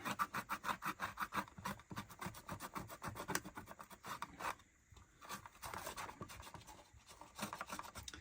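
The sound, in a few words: scrubbing glue residue and dust off a Stylophone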